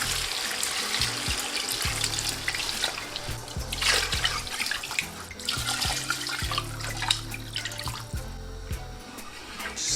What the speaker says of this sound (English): Now add in the water.